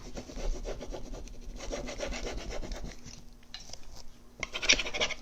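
Rubbing down a transfer over the top of a wooden jewelry box, a continuous close dry rubbing and scraping with brief pauses and some sharper scratches near the end.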